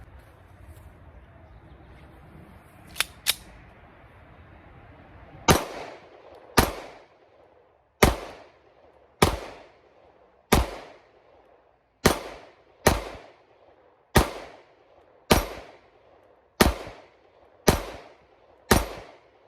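A Springfield Hellcat RDP or Shadow Systems CR920 pistol fires about a dozen sharp shots at a steady pace roughly a second apart, loud and close, at an outdoor range about 10 yards from the target, with two quick clicks before the first shot.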